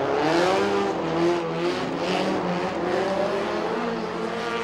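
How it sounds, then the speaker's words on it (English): Drift cars rev hard: a V8-swapped BMW E30 and a Mazda FD RX7 with a Nissan SR20DET engine. Their snarling engines rise and fall in loud, close pulses, with a hint of tire squeal under the roar. "Now Peter Green has a V8 from a BMW in that little tiny E30. So he's got a lot of torque"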